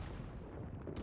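Secondary battery guns of a warship firing in the naval battle game World of Warships, a loud, dense, continuous roar of overlapping booms filling the whole moment without pause.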